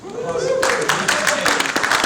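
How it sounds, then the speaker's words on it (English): Audience at a Tech Cocktail Boston networking event in a round of self-applause: scattered clapping starts near and fairly loud, mixed with voices and laughter in the room. "give yourself a round of applause, everybody"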